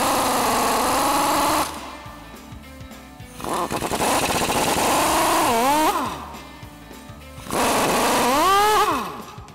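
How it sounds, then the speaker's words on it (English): Pneumatic impact wrench with a 22mm deep socket tightening cradle bolts on a 2021-2024 Ford F-150 during a front leveling kit install, heard in three loud sustained bursts with rising whine as each bolt seats, separated by short pauses. "we'll go ahead and grab our 22mm socket on our impact and tighten all these down"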